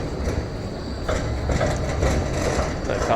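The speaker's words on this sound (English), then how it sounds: "No cars, just trams" Tram rolling along a car-free city street in Australia, a continuous rumbling rail roar with faint clattering wheel clicks, fairly loud and near, over general street ambience.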